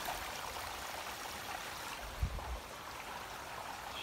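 Ridley Creek in Ridley Creek State Park flows with a soft, steady rushing hiss, faint and continuous, with a brief low thump partway through.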